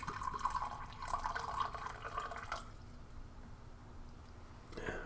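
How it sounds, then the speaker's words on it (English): Water poured from a thermos canteen into a small container while preparing a ration-pack drink, a faint close trickle and splash for a few seconds, then quiet. "Get our handy dandy thermos canteen. And we'll spill 4 ounces of water,"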